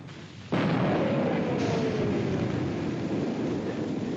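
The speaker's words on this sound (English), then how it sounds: "are you gonna help me blow out that gun or not?" A sudden loud blast from a gun being blown up in a World War II combat drama, its roar and rumble spreading wide then hanging on as a long, steady decaying wash of debris and echo.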